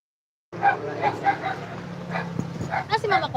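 Several dogs bark and yip repeatedly nearby in an irregular burst, with some voices mixed into the noisy barking.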